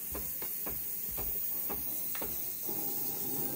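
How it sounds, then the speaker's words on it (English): An espresso machine's steam wand is run to clear it. A few sharp mechanical clicks come first, then a steady hiss of steam joins near the end, close and fairly quiet. "Run steam to clear wand."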